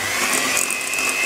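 Fromage blanc cake batter with lemon zest being mixed, a loud, steady mechanical whir like an electric mixer running close by without a break.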